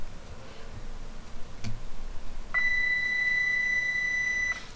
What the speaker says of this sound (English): that loud beep you just heard is for the autopilot